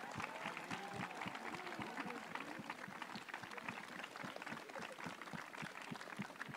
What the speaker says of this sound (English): Could you please give them a huge round of applause?